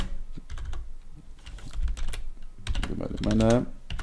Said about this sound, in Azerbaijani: gəlin mən bax burada mesaj yazıram